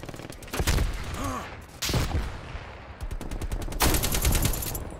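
Automatic gunfire in Black Ops Cold War, loud bursts and rapid rattling volleys across the clip, with a brief voice and game effects mixed in.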